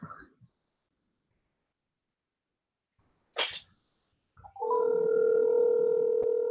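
A steady telephone dial tone starts abruptly after a sneeze-like burst and a short silence, then holds loud and unbroken to the end.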